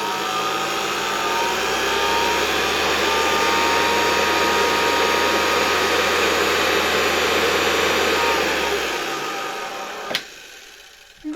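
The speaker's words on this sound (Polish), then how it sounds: "Silnik bardzo ładnie od razu ruszył." A Zelmer vacuum cleaner motor, reassembled and running on substantially reduced voltage, gives a loud, steady whine with a constant hum and no other sounds. It stays even for several seconds, then spins down, followed by a sharp click and a short burst near the end.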